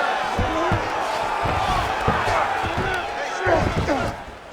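Ground and pound strikes landing in a UFC 5 fight game, a run of thudding slams at an uneven pace over arena crowd noise, with commentators talking throughout.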